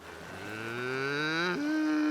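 A cartoon cow gives a single long moo, its pitch sliding gradually upward and then stepping up near the end, clear and alone.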